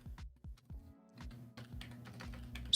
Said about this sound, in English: I'm typing that into Google.